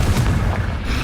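A deep, rumbling Confringo spell blast in the video game Hogwarts Legacy, a loud booming explosion that rolls on as a dense low roar for its whole short length, without any voices.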